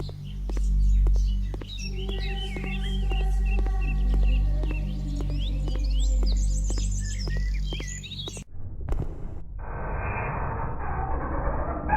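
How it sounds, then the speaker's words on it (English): Birds chirp and tweet in a dense, continuous chorus over a low rumble above a mountain landscape, with many overlapping calls; after about eight seconds the song stops and a different, rougher texture takes over. "birds swarming through the sky over our mountain landscape"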